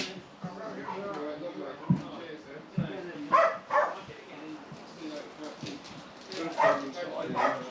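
A dog aboard a narrowboat on the Ashby Canal gives several short, close barks and yips, with whimpering in between, while people talk nearby.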